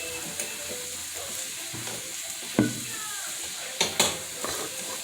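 Rice browns in a hot skillet while stuffed grape leaves are being made, giving off a steady, moderate sizzle with a few sharper scrapes and knocks of stirring scattered through it.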